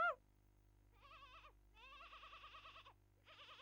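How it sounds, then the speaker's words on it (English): A goat in the Hunchback of Notre Dame game on PS1 bleats in several wavering calls, one short and two longer drawn-out ones separated by pauses, clear and close against a quiet hum. "here's a goat"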